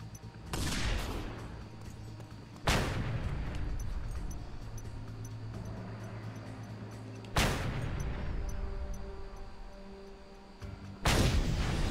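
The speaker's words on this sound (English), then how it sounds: "Who's shooting at me?" Heavy gunfire and booming blasts aimed at the player in Just Cause 2 arrive in sharp volleys spaced a few seconds apart, each followed by rumbling echo and lingering background noise.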